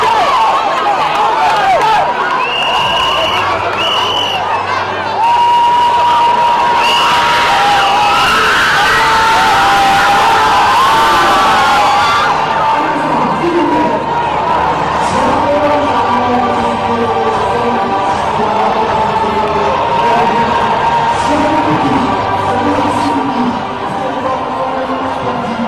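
A pageant audience at a grand theatre claps and cheers for the traditional-costume winner, a dense, loud crowd roar with whoops and shouts that continues throughout.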